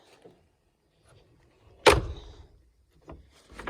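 Door of an old abandoned antique classic car in a junkyard swinging shut with one crisp, solid thunk, followed by a couple of fainter knocks, close and otherwise quiet.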